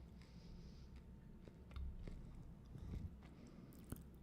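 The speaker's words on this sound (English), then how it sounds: "is that loud? My popcorn chewing." Popcorn being chewed close to the mouth, a run of soft crunches and wet munching bites at an irregular rhythm, quiet but distinct, with a few sharper cracks.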